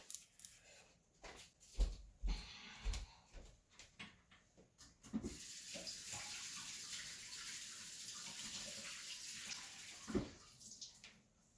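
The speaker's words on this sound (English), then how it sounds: "Let me grab some warm water." Warm water runs from a tap, a steady hissing gush that starts partway through after some clattering and handling noises, continuing evenly with a brief knock near the end; no speech.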